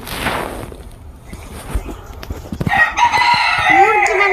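A rooster crows nearby, a loud drawn-out cock-a-doodle-doo in the second half, after earlier rustling and bumping sounds with no talk.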